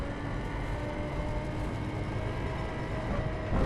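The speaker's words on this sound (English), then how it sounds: "Oh, there's a train!" A train rolls past in the racing video game The Crew, a steady, loud low rumble holding evenly throughout with no voices.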